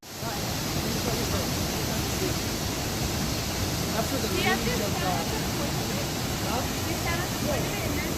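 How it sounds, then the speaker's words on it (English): A waterfall at Yosemite gives off a steady, enveloping rush of falling water that holds an even level throughout, with faint voices briefly audible beneath the roar. "And then this is the waterfall."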